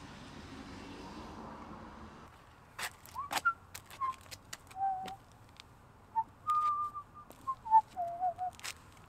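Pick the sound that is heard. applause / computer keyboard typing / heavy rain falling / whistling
whistling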